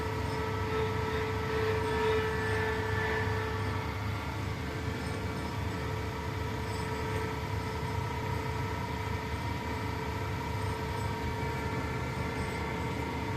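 Delphi CRDI diesel pump from a Tata Ultra BS6 running on a test bench at about 100 RPM, a steady mechanical drone with constant hum and whine, close and continuous without talking.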